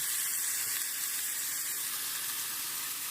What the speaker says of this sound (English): I put my Philly steak patty